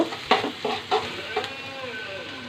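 Onions fry in a pan for a liver bhuna, a close sizzle broken by several sharp spatula scrapes and clatters against the pan at an uneven pace.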